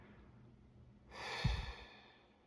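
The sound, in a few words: slow deep exhale during breathing exercise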